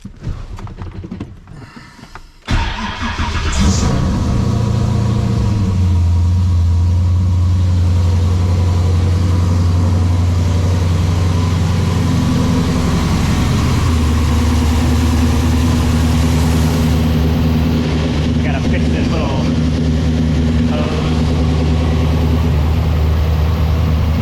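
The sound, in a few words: car engine being cranked, started and idling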